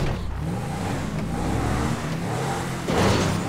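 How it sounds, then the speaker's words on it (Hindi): A Mahindra Thar idling and revving in GTA 5, its engine burbling in a steady low rumble throughout, swelling louder near the end as if accelerating. "महिंद्रा की थार, ये तो वैसे ही बबलिंग इतनी ज़्यादा करती है।"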